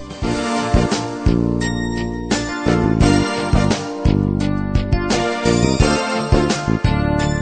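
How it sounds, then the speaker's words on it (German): A short radio show jingle plays loud and alone, a bright tinkling, chiming tune with punchy rhythmic hits and sustained tones, leading into an interview segment. "Ein Jingle und dann geht's los mit dem Gespräch"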